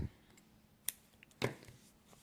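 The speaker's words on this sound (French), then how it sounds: "On va couper pour pouvoir reprendre plus loin." Scissors snipping crochet yarn at the end of a row: two quick, close, crisp cuts a half second apart, with light handling noise around them.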